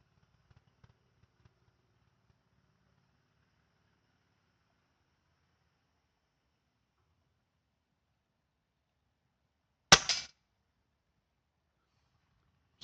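A single sharp, loud crack of an airgun pellet striking a practice target stands out against near silence, with another brief hit cut off at the very end.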